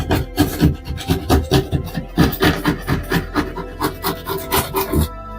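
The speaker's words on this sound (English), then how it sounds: "your knife has to be up and down or you're actually cutting an angle into the drywall." A utility knife sawing up and down through drywall, a steady rhythmic rasping scrape of about four strokes per second, close and loud with no talking.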